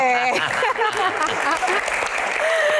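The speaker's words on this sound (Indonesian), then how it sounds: "Tepuk tangan sekali lagi buat Bang Rano" An audience at an onstage Q&A event claps loudly and continuously in a dense burst of applause, with voices and some musical tones mixed in.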